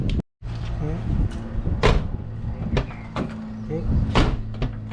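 A 2002 Toyota Tacoma passenger door is worked several times, with sharp latch clicks and thumps as it opens and shuts, close by in a garage-like space amid a low hum and light speech.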